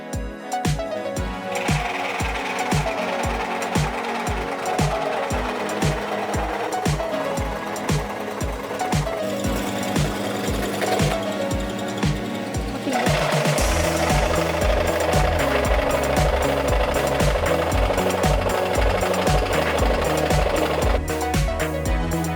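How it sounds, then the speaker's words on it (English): A jigsaw machine cuts in a manufacturing workshop with a fast, rattling reciprocating buzz that runs without a break and grows louder and harsher about halfway through. "Next, we can do the cutting process using a jigsaw machine."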